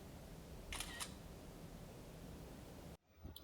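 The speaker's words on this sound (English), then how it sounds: "let's take our first selfie" Blackview BL5000 rugged 5G phone snapping a selfie: a quiet double shutter click over a soft hiss, then a sudden drop in background noise, with no voices.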